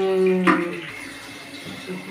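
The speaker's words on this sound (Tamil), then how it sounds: "இதை தண்ணியை விட்டு அலசி எடுத்தோம்னா" Raw meat (kari) being rinsed in water in a home kitchen, a brief splash and sloshing of water in a bowl or under a tap, close and moderately loud, fading into quieter background after the first half second.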